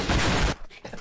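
A sniper rifle shot in a video game rings out as one loud, broad blast lasting about half a second, then cuts to quiet with faint mechanical clicks.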